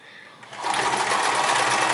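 A Sears Kenmore 158 series sewing machine starts up and stitches a zigzag, first softly and then in a steady, fast, whirring mechanical run close by.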